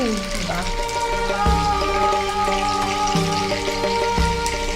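Chicken tikka pieces for a saffron tikka curry fry in a hot pan, a steady sizzle with occasional clinks of a utensil against the pan, close and continuous.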